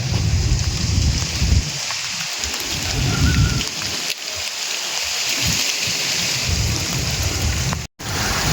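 A sudden rainstorm with thunder pours down loudly and close, a dense continuous roar of rain with low rumbling underneath and a brief cut-out near the end.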